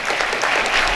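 A hall of students in Vadakara claps for quiz grandmaster G. S. Pradeep: dense, even applause, close and loud, filling the whole second with no break.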